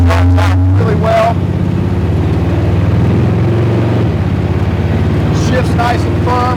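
A 1929 Ford Model A rat rod with a rebuilt engine and 3-speed transmission drives, a loud low rumbling engine with rising revs and gear changes, under someone talking throughout.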